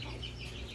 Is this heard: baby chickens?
yes